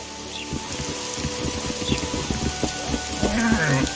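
In the video game The Witcher 2, steady rain hisses throughout with low rumbling thunder rolling underneath, a stormy wash of sound with a few deeper booms.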